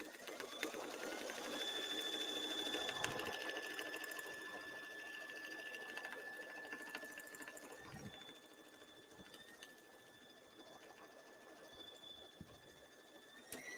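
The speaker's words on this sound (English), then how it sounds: "Now we'll go ahead and stitch. It'll go all the way around." A Brother Luminaire embroidery machine stitches around a design on a tooth fairy pillow, its steady mechanical whir running throughout with high tonal motor whines that start and stop, loud at first and then settling a little quieter.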